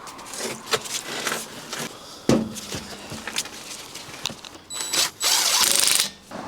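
A Porsche Boxster 986 S adjuster backed off by one click in a garage, heard as sharp metallic clicks and ratcheting taps spread through the moment, close and moderately loud, ending in a louder burst of mechanical rattle.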